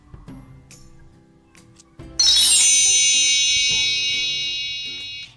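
A bright notification bell ding rings out loudly once and decays slowly over a few seconds, preceded by quieter soft clicks and low background sounds.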